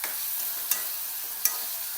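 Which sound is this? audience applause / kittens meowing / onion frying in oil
onion frying in oil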